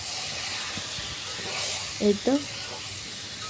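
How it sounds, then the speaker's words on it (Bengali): Ingredients fry in a pot for khichuri, giving a constant soft hiss of steam and sizzle, with a voice briefly speaking partway through. "আমি এখানে ভাজা ভাজা করতেছি।"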